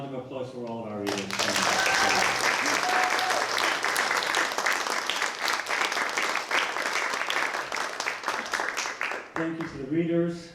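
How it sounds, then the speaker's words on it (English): An audience at a public reading applauds. A sustained roar of many clapping hands rises after brief speech, holds steady, then fades as a voice returns at the end. "So let's get a round of applause for all of our readers."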